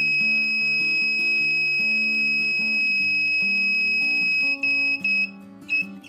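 A laser-diode latch relay alarm, a simple 5V build, beeps steadily when switched on, a loud continuous high tone with a buzzy lower pattern shifting beneath it, briefly breaking up near the end.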